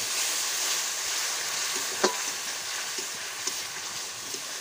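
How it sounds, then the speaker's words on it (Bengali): Water poured into fried spice paste for a potol chingri curry, making a steady, close frying hiss with a sharper spit partway through and a few faint clicks from the pan. "মশলাটা আমার কষানো হয়ে গেছে, এরপর আমি জল দিয়ে দেবো এর মধ্যে"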